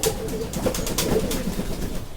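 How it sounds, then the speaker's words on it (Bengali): Pigeons coo softly and steadily while bathing in fresh water, with light splashing and fluttering mixed into a continuous, close bird chorus and no voices. "আপনারা দেখেন আমার কবুতরগুলো কি করছে পানি পেয়ে"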